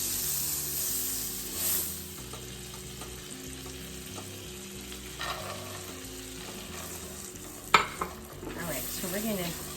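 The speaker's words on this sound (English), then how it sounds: "So we're gonna stir these around and get them nice and buttered up and let them toast until they're just fragrant" Pecans toast in melted butter in a pan, giving a steady sizzle with occasional stirring scrapes and a sharp clink near the end, all alone without talk, over faint background music.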